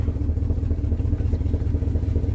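A 2004 Chevrolet Silverado engine idles with a misfire, a steady low rumble with an uneven, lumpy pulse, heard alone without talk.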